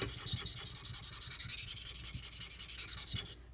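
A kitchen knife scrubbed back and forth on a sharpening stone, a close, rapid rasping rhythm of short strokes that stops abruptly at the end.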